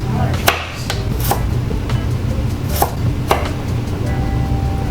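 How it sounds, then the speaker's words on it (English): A knife julienning a carrot on a cutting board for vegetable udon soup, sharp irregular taps over a steady background hum, with no talk. "Next is a carrot. We're going to julienne this."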